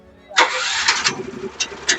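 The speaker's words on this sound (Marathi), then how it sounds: "त्यानंतर ते फवारणीचं जे इंजिन आहे ते इंजिन चालू करत आहेत" A small self-start crop-sprayer engine starts abruptly at an agricultural exhibition and settles into a rough, steady running noise, with a couple of louder bursts as it catches.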